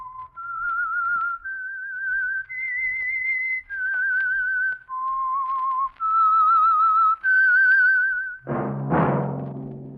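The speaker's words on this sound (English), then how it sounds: "That whistle is your signal for the Signal Oil Program, The Whistler." One person whistles a clear, bright tune of sustained, slightly wavering notes for a radio program's opening signal. The whistling runs alone and close, ending in a short burst of orchestral music.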